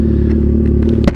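Close, loud revving of a 2009 Yamaha FZ6R motorcycle fitted with a new exhaust, a deep steady engine burble with a brief sharper pop near the end.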